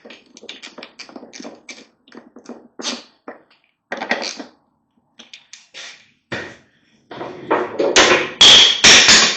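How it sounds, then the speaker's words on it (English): A screwdriver clatters while the airbox is refitted on a Suzuki GSX750F motorcycle: a run of short, sharp taps and knocks, growing into louder, denser clattering at the end, with no talking. "Oh, that was the screwdriver."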